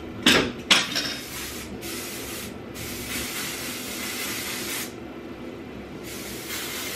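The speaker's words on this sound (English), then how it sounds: "Actually, just spray these really quick." Hair spray hisses from an aerosol can in several bursts, opening with two sharp clicks and clatters, then long steady sprays separated by short pauses, close and fairly loud.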